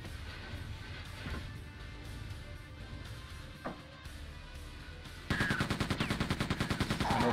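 An enemy's instant-hit weapon firing in Quake II: a muffled shot or two early on, then a loud, rapid, evenly spaced string of shots that continues to the end.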